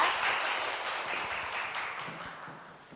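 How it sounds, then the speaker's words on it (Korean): Audience applause welcoming a lecturer at a Friday science lecture in Korea, soft, somewhat distant clapping that fades gradually over a few seconds. "큰 박수 부탁드립니다"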